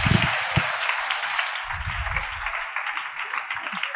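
An audience of students at a CA Inter class applauds, a dense burst of many hands clapping that runs throughout, with a few voices and thumps mixed in underneath.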